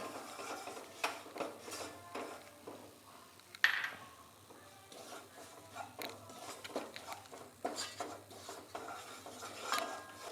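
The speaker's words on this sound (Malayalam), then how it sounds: "ഇനി ഇതിൻ്റെ പച്ചമണം മാറുന്നിടം വരെ നമുക്കിതൊന്ന് വഴറ്റി കൊടുക്കാം." Chili and coriander powder being sautéed in a pan for Kerala ginger curry, with soft scraping and stirring of a spoon against the pan, a few sharper clinks, all fairly quiet.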